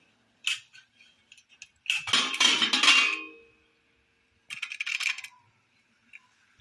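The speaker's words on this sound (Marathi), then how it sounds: "आता आपण झाकण उघडूया" A cooled pressure cooker holding cooked eggplant curry has its metal lid worked open: a few light metallic clicks, then a louder, sustained clattering scrape, and a final short rattle, close by with no talk.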